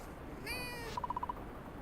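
A cat in the Fields of Mistria farming game gives a brief high meow, followed by a quick string of six soft, evenly spaced blips, faint over low background music.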